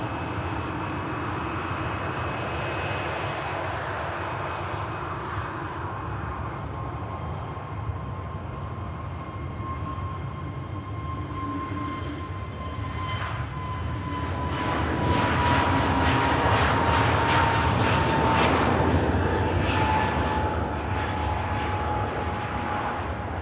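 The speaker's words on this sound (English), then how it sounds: "What a very smart plane to be flying over to Amsterdam on." A fixed-wing airplane flies over Manchester Airport, its engine roar steady with a slowly falling whine, then growing louder and fuller midway as it passes overhead, with no talk.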